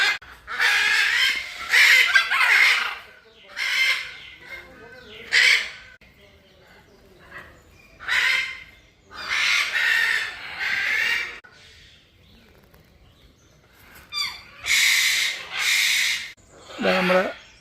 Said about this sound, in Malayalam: ഇത് വലിയ ആഫ്രിക്കൻ തത്ത കേട്ടോ. സാധാ തത്തേനെ പോലെയല്ല, വലിപ്പത്തിലും സൗണ്ടിലും വ്യത്യാസമുണ്ട്.